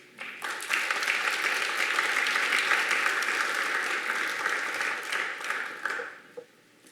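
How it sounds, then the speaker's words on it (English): An audience applauds after a presentation, with steady clapping that swells quickly, holds for several seconds, then tapers off. "Let's give them all one last round of applause."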